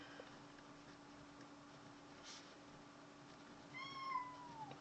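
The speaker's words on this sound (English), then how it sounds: "That was my cat." A house cat meows once near the end, a short rising-falling call over a quiet indoor room hum; no talking.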